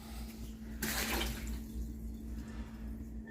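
Water from a tap rinses the inside of a stainless steel glitter tumbler, a steady splashing rush that swells briefly and then settles into a softer running flow over a low background hum.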